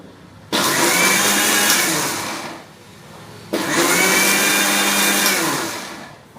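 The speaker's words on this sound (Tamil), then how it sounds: "அரைக்கிறத பாருங்கள், இப்படி அரைக்கணும்" Mixer grinder grinding soaked lentils for adai dosa batter, two loud bursts of steady whirring motor noise, each spinning up abruptly and winding down, close and alone with no talk.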